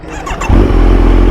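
A motorbike engine catches after a short scrape and settles into a loud, steady idle that holds to the end.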